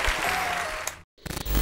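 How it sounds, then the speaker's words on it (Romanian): Applause from a studio podcast audience fills the first second, breaks off into a brief silence, then resumes as a dense, steady wash of clapping. "Aplauze"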